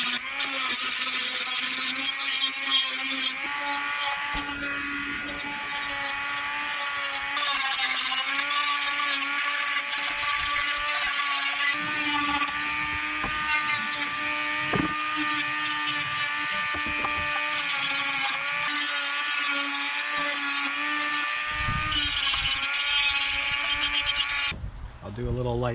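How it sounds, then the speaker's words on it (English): A Dremel rotary tool with a carving burr whines steadily at a high pitch as it grinds into fence-board wood, running almost continuously before cutting out briefly near the end. "clean up the edges all inside using a Dremel and a Kutzall Extreme Flame"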